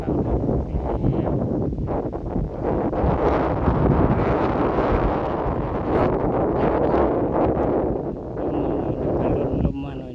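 Steady wind gusts buffet the microphone outdoors in a rural spot under a large leafy tree, a continuous rushing roar with some rustling throughout.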